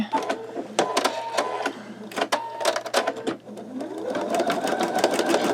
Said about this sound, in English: let's go ahead and hit start